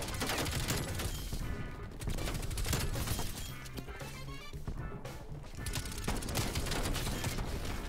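A PPSh submachine gun fires in Call of Duty Cold War during a domination match on Nuketown, rapid bursts of gunfire with crashes and clattering mechanisms, loud and continuous with brief pauses between volleys.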